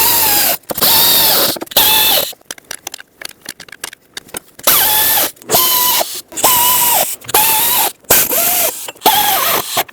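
A ratchet snugs the valve cover bolts on a 1999-2007 Ford F-350 with the 7.3L Powerstroke diesel. Loud, close bursts of rapid clicking come in repeated runs separated by short pauses.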